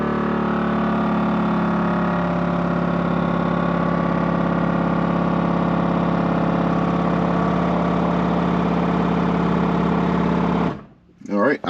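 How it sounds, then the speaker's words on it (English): ARB air compressor running on a vehicle, a steady loud buzzing hum with a strong rapid mechanical pulse, holding evenly for about ten seconds before stopping abruptly. "I just turned on my ARB air compressor"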